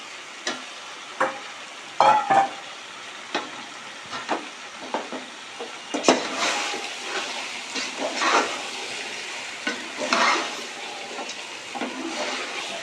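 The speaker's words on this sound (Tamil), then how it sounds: "சிக்கன் போட்டுக்குவோம்" Chicken pieces for a home-style chicken biryani cooking in a pot, giving a soft ongoing sizzle and hiss with scattered clicks and scrapes of stirring, close and moderately quiet, with no voices.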